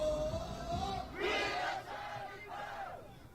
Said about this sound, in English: Crowds are now chanting "We are Kirk" in South Korea